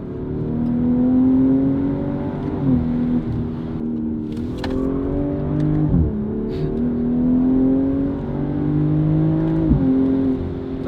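A BMW G26 M440i fitted with a Valvetronic Designs exhaust, heard from inside the cabin, drones loudly as it accelerates hard, the engine note climbing steadily and dipping briefly at several quick gear shifts.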